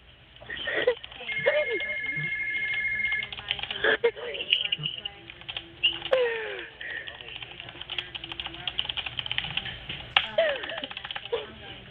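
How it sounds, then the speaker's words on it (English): Several phone ringtones go off at once in the background, overlapping electronic tones and chimes repeating throughout while a person talks over them. "Why are there like 6 different ringtones going off in the background?"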